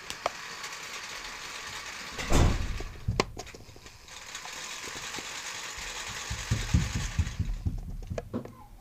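A small LEGO motor turns an 8-tooth gear meshing with a 24-tooth gear to drive an amusement park Ferris wheel, making a steady whirring hum punctuated by a few louder knocks and rattling clicks near the end.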